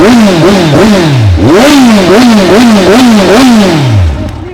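A used Kawasaki motorcycle engine in good running condition revs repeatedly up close, loud rising-and-falling throttle blips in a steady rhythm, with mechanical clatter underneath.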